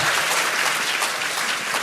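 Audience applause at a live public podcast recording held at a Seoul political talk concert for new party members, dense steady clapping filling the room close up and loud, without pause.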